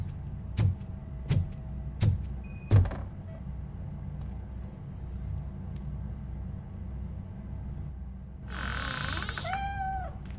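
In the video game Robocop: Rogue City, a cat gives a drawn-out wavering meow near the end, after several heavy thudding footsteps and a quiet stretch of low ambient hum.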